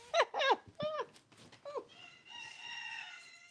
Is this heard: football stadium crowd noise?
no